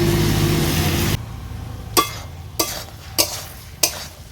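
Soybeans and chickpeas stir-frying with spices and a splash of water: a loud sizzle that cuts off abruptly, then four evenly spaced scraping strokes of a spatula against the pan in near quiet.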